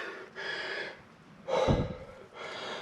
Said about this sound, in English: Sorry for panting.